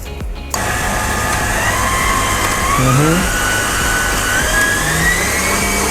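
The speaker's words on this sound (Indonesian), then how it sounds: "Kita mixer sampai dia mengembang ya" An electric hand mixer whirs steadily as it beats chocolate avocado mousse batter, starting abruptly and holding a loud, constant motor whine with slight pitch shifts as it works.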